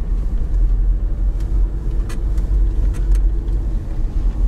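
Off-road vehicle crawling through sinking ground in second low gear with the differential locked during a GPS orienteering competition, a loud steady low engine rumble with a few faint clicks and knocks, no speech.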